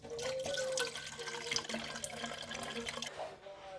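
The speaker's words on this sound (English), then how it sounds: "we're just going to turn down our water and fill the bottle up" Tap water runs steadily into a 500 ml plastic bottle, a close, continuous splashing rush that stays strong throughout without any talking.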